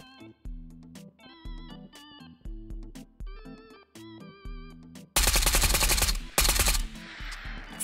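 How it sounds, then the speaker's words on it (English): Automatic gunfire in the VR shooter Ghost of Tabor, loud and close: several short rapid bursts followed by a sustained burst that fills the last seconds over a quieter, tonal game backdrop. "Guy shooting the bot in the back right now."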